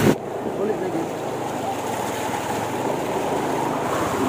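Sea waves churn during Typhoon Vicky off Bislig City, a continuous rough roar of surf mixed with wind buffeting the microphone, steady and loud throughout.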